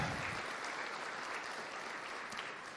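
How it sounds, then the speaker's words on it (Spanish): A church congregation applauds, a dense, steady wash of many hands clapping together that fills the space and carries on evenly without a break. "Dele un aplauso al Señor con todo su corazón."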